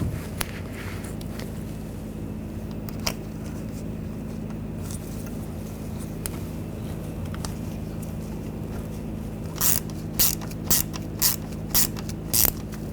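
A ratchet snugs down a bolt on the auxiliary coolant pump bracket of a 2009–2017 Volkswagen Tiguan 2.0L, with a burst of sharp rapid clicks near the end after quiet shop background.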